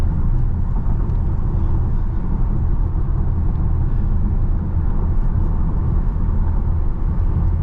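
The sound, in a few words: Tesla Model Y driving 70 mph on choppy freeway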